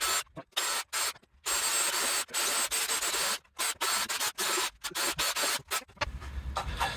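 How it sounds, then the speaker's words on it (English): A very big handheld sander shaping the wooden body of a homemade guitarolin roars in loud, close bursts with short gaps between passes, then a lower grinding rub at the end. "I've got a very big handheld sander"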